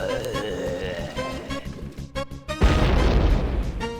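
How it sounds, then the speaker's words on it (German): A heavy explosion in the video game Simon the Sorcerer bursts in after lighter tonal effects, a loud low boom that keeps rumbling to the end. "versteinert er zuerst und explodiert zu guter Letzt noch"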